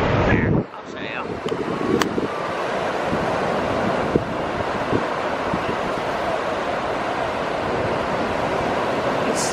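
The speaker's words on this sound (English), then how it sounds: "It's probably really windy." Strong wind blowing across a beach with surf behind it, a constant loud roar of wind noise on the microphone after a brief muffled start.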